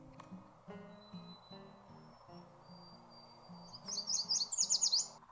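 A Tennessee warbler sings a quick, bright run of high chirping notes toward the end, close and clear over a soft, low tonal background.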